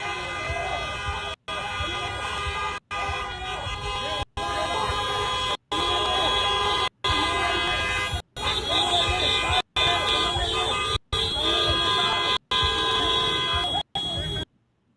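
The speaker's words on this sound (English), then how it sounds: "Good, see? Honking." Car horns honk repeatedly on a Chicago street during a scuffle with ICE agents, steady tooting and siren-like blaring under excited talking voices, broken by regular short gaps.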